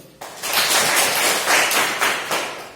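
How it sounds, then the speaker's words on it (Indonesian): A classroom group applauds together, a dense burst of many hands clapping that starts abruptly and holds steady for a few seconds, with swells in intensity. "tepuk tangan untuk semua dulu"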